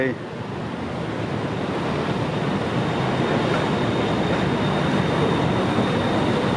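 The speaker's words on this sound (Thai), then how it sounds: "ส่วนรถไฟก็กำลังเข้ามา" A train rolls into Phaya Thai halt in Bangkok in the evening, a steady, broad rumble and hiss that gradually swells, loud and continuous, with faint voices of waiting people mixed underneath.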